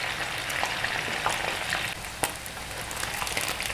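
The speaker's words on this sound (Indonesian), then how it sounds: "Nah ini goreng ikan asinnya sudah mateng ya." Salted fish (jambal roti) frying in a pan of oil for a Pangandaran-style sambal, giving a steady close crackling sizzle with scattered sharp pops throughout, no talking.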